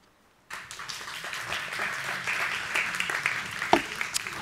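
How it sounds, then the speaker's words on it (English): Crowd applause from a Wednesday night church congregation bursts in after a brief silence and keeps going steadily, dense clapping filling the room at fairly close range. "They know it's awkward when I take a drink, so they clap so I don't feel so silly."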